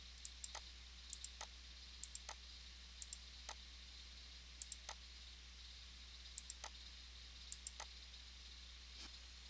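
A computer mouse clicks on recovered pictures in FTK Imager, faint crisp single and double clicks in an irregular rhythm over a low steady hum.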